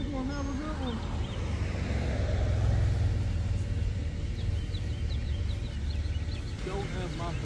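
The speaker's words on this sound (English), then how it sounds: "Your truck is very loud." A loud truck engine idles close by with a heavy, steady low rumble and some wind noise, running continuously with no one speaking.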